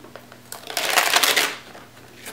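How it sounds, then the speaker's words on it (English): Paper peeled off a Brother ScanNCut DX cutting mat after cutting cork-notebook leaf accents, a crackling, rustling tear rising over about a second near the mic, then trailing off, with no talk. "Next step is to pull off our paper off our mat"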